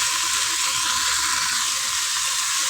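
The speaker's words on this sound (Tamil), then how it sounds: "கருவாடு போட்டு இதை நல்லா வதக்கிடுவோம்." Dried fish sautéing in a pan for rasam gives a steady, close, bright sizzle that hisses without a break from start to finish, with no voices over it.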